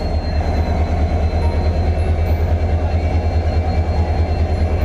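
The Dimapur–Sairang special passenger train with ICF coaches rolls into Hailakandi railway station, a loud, close, continuous low rumble with a steady rhythmic wheel beat over the rails.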